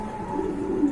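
A black female pigeon gives a brief, soft coo close by, low and murmuring, with no voices over it.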